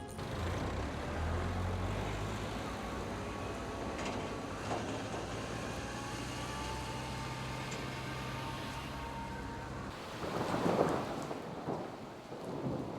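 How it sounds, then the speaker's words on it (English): Heavy rain pours steadily in Hong Kong while thunder rumbles low and long, with a louder crack and rumble near the end, no voices over it. "It rains right away, and all the work on the venue has to stop."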